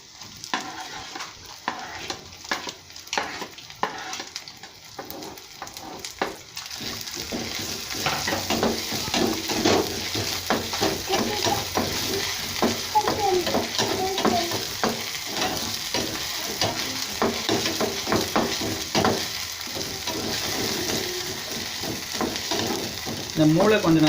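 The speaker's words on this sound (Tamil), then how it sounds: "இப்போ மூளையை நம்ம அதோடு கூட மிக்ஸ் பண்ணுறோம்." Goat brain fried with golden ginger and garlic in a pan, with rapid scraping and stirring strokes at first, then a loud continuous sizzle with steady ladle clatter.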